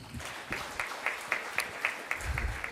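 Faint, evenly spaced clapping at a Tamil comedy debate show in Madurai Muthu's style: soft claps recur roughly every quarter second over low background noise.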